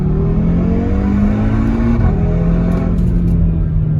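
The exhaust of a 2018 Audi RS3 revs loud and close, a steady droning engine note that rises, then dips briefly and keeps going without letup.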